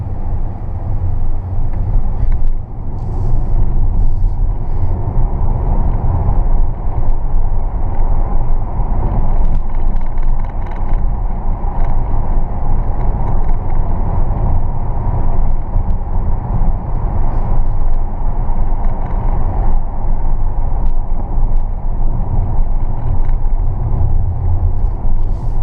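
A 2015 Tesla Model S P85 driving on roads around Bath, UK, heard from inside as a loud, steady low road rumble and tyre noise with no engine note.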